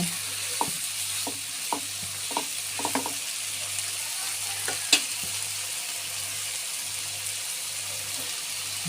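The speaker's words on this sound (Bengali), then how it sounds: "বন্ধুরা এখন আমি একটু নাড়াচাড়া করে নিচ্ছি" Figs cooking in a pan are stirred with a utensil, giving soft irregular scrapes and taps over a low, steady sizzle and a faint background hum.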